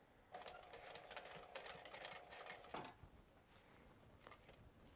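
A sewing machine backstitches a seam on a crossbody pouch, running in a steady fast mechanical whir for a few seconds before it stops, close and clear.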